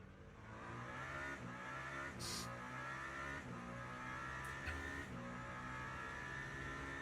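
A Toyota GR010 hypercar in the Le Mans Ultimate racing game at Spa sounds a continuous, loud engine drone with layered harmonics and shifting pitch as it drives along the track, with a couple of brief sharp bursts partway through.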